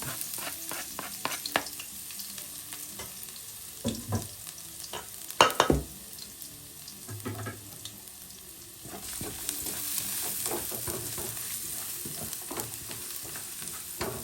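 Day-old rice stir-fried with garlic in hot cooking oil, a steady sizzle broken by scraping spatula strokes and clanks against the pan, close and alone, the frying swelling louder in the second half.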